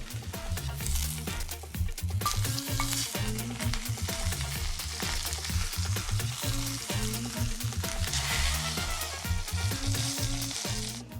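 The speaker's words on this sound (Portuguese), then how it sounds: "vamos corar muito bem o borrego" Lamb sears in olive oil in a very hot pot, a dense, constant crackling sizzle filling the whole stretch, loud and close, with no talking.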